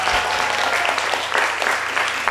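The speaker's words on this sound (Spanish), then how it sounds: "¡Un aplauso por eso!" An audience of children and adults claps at a university singing-competition training session, a dense steady patter of applause with faint voices mixed in.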